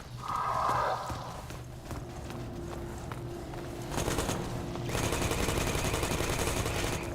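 Rapid automatic turret fire in the Half-Life 2 MMod shooter rattles away in a continuous burst, joined partway through by louder, denser shots and impacts that keep going to the end.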